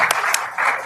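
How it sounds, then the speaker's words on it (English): Brief burst of audience applause at a climate change talk in Boston, a dense wash of clapping from a crowd lasting under a second. "Great applause line."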